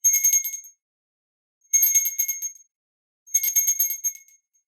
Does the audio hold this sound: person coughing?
no